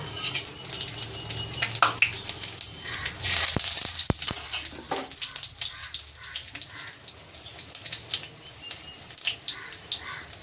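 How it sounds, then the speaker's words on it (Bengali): Whole garam masala, bay leaves, dried red chillies and black peppercorns sizzle in hot mustard oil, a steady close crackle with bright spits and pops throughout and no talking. "তেল গরম হয়ে গেছে, ফোড়নের জন্য নিয়েছি গোটা গরম মশলা, তেজপাতা, শুকনো লঙ্কা আর কয়েকটা গোটা গোলমরিচ"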